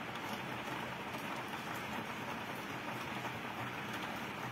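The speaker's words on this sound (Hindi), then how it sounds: "जहां पर इस वक्त बारिश हो रही है" Rain falls steadily in the Lal Chowk area of Srinagar as an even, continuous hiss of drops on surfaces, moderately quiet and unbroken, with no speech.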